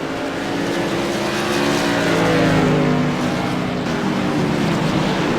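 Light modified race cars roar around Martinsville Speedway, a steady loud engine drone that swells and fades slightly as the pack passes, with no breaks.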